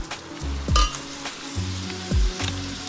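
Onions and green chillies hit hot mustard oil in a pot for chicken at an outdoor jungle picnic spot, a loud steady sizzle with a few stirring scrapes and metallic clinks.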